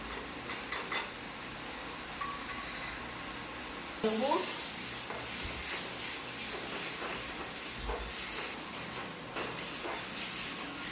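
Rohu fish curry spices, turmeric and Kashmiri chili powder, fry in hot oil, giving a steady close sizzle and hiss with scraping stirs and occasional clinks of a utensil against the pan.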